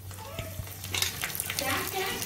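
Sizzling and crackling from garlic, five-spice seeds and red chilies frying in hot oil for spinach gravy, steady and close, with occasional stirring scrapes.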